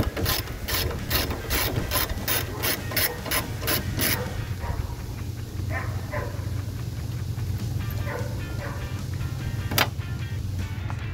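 A ratchet wrench with a 13 mm socket loosens tailgate bracket hardware on a Jeep Wrangler TJ, giving a fast run of close, sharp clicks for about four seconds, then a few softer scattered clicks over a steady low hum.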